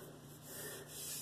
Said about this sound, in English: when you're sharpening, even off of your first stone, even if it's a really coarse stone like a 220 or this 320 Shapton I'm using